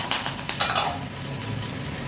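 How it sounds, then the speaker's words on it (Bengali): Green chillies dropped into hot oil, a dense, loud sizzle and spatter with a few sharp crackles at the start that settle into a steady hiss, close up. "তেল গরম হয়ে গেছে এবার এতে আমি এই কাঁচা লঙ্কাগুলো দিয়ে দিচ্ছি"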